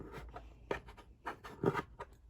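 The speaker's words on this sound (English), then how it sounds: "All you do is kind of just go in with your bone folder and round it." A bone folder rubs and rounds a paper edge against a chipboard mini album base, giving a few short, soft, scratchy strokes that are faint and close.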